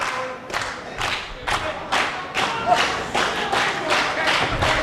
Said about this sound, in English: These fans making some noise